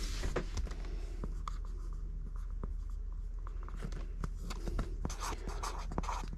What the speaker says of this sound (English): maybe I'll even write a little note.